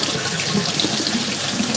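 Water runs steadily from a kitchen tap into a sink while something is washed, a close, constant hiss and splash with no talk.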